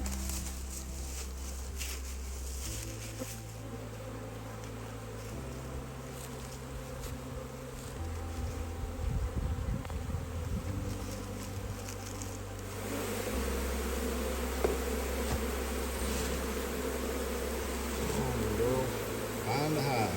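Bees hum and drone near a hive in a forest, a dense, shifting buzz with pitch changes as individual insects pass close, sustained throughout with faint background activity.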